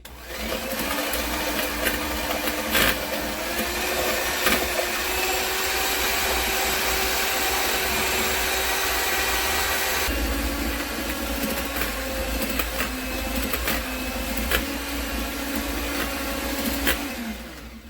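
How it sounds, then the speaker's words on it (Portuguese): Electric stand mixer beating cake batter into a pale cream for a Prestígio coconut-chocolate cake, a steady motor whir running continuously and close with a brief shift in pitch partway through. "Então eu vou bater até formar um creme branco e esbranquiçado."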